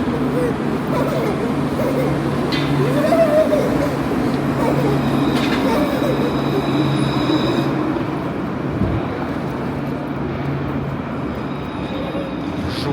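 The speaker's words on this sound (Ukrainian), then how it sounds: "Ти бачиш, їде трамвай." A tram rumbles past outdoors with a steady low roar and faint metallic squeal, street noise constant throughout.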